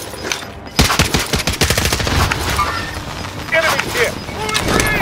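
Rapid automatic gunfire in the video game Warzone, loud close bursts of shots in quick succession, followed by further scattered firing with in-game voice chatter beneath.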